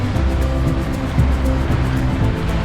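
A sailboat's engine runs at sea under two raised sails, a loud low droning rumble blended with the wash of waves against the hull, steady and close throughout.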